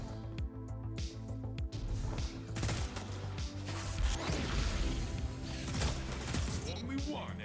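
Pulse rifle fire in a first-person shooter: clipped bursts of rounds repeat amid impacts and clattering battle noise, fairly loud and continuous, with someone talking over it.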